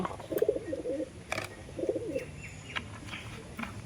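Soft pigeon coos repeat a few times amid faint chirps and light background noise, close by with occasional brief clicks.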